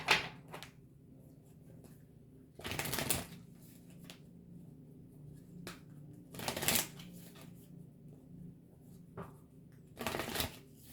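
Tarot cards shuffled by hand, several separate bursts of crisp riffling spread across the stretch with quiet gaps between them, close and clear with no talk.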